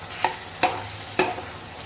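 A spoon scrapes through thick country chicken curry with ground coconut, poppy seed paste and chili powder in a pan, three distinct stirring strokes over a low sizzle.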